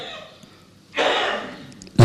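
A single short cough bursts out at the very end, following a stretch of quieter room sound and a broadband noise swell during a talk at a congress.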